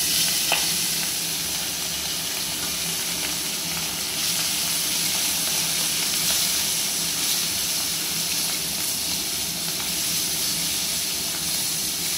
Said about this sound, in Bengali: আমার মাছ একটু ভাজা হয়ে গেছে